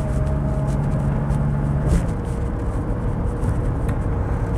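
A Mercedes 280SE 3.5 V8 (W108) pulls away in drive, its engine note steady and close with a broad rumble and no talking.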